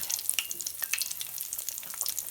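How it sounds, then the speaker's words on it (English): Eggplant frying in a hot pan for a keto dish, with a steady bright crackling sizzle and small pops throughout, close and alone without voices. "You can see how it's sizzling really nice."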